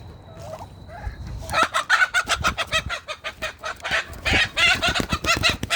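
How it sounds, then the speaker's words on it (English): Chickens cluck rapidly and close by, a busy stream of clucks and squawks after a few quieter calls at the start. "One of these chickens keeps getting out."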